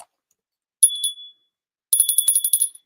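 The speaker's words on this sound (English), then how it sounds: "I'll need to get a better bell." A bell rung by the auctioneer during a live collectibles auction of comics, toys and cards: a bright ring near 0.8 s, then a rapid run of repeated dings from about 1.9 s, close and clear with no talk.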